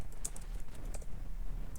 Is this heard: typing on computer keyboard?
yes